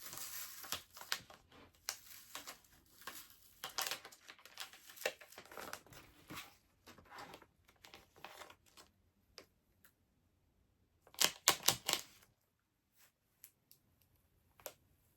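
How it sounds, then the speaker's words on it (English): Transfer tape is peeled back for screen printing, giving faint close crinkling and ticking with a louder tearing rip near the end, separated by quiet gaps. "Now I'm just going to peel back my transfer tape."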